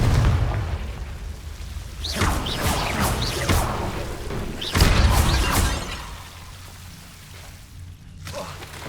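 Confringo fire spells blasting in a Hogwarts video game, two loud whooshing bursts with crackling debris and rumbling impacts, the second the heaviest, then fading into a low, quieter hum.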